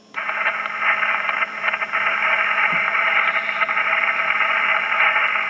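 Amateur radio receiver audio from a Parks on the Air activation in Monongahela National Forest, played over a speaker: a steady band of hiss and static with faint wavering signals, continuous and fairly loud throughout.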